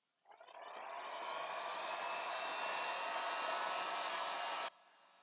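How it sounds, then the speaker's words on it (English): A heat gun switches on, its fan spinning up into a steady close airy roar that holds for several seconds and then cuts off sharply, leaving faint residual noise. "Mr. Heat Gun."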